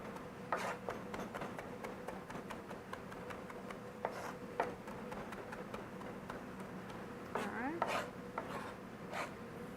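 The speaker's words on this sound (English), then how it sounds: "If I want garlic minced up pretty fine, I put a little salt on it" A knife minces garlic with a little salt on a cutting board in steady, quick, close taps, with a few louder scraping strokes near the end.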